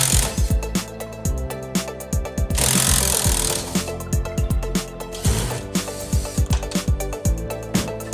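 A power tool removes cabinet screws during a full home remodel, giving repeated rattling, hammering bursts of driver noise with short pauses between them.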